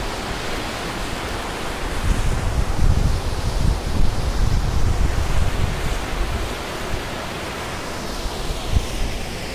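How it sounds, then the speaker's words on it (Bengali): Waterfall tumbling beside a mountain road in Garhwal, Uttarakhand, near Gangnani, heard as a steady, loud broadband rush of falling water that swells slightly midway and continues without a break, with no voices. "রাস্তায় যেতে যেতে একটা সুন্দর ঝর্ণা"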